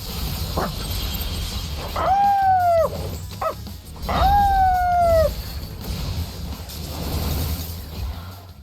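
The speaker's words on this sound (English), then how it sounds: "The voiceover doggy sounds are a bit much." A dog character in Persona 3 Reload gives two drawn-out, whining bark-like yelps, each bending downward in pitch, with short yips between them over a soft game background.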